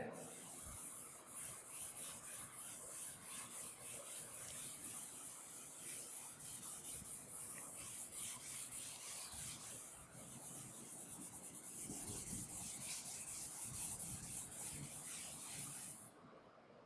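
Steady scrubbing hiss of writing being rubbed off a classroom board, continuous and faint, with a soft brushing rhythm lasting several seconds before stopping.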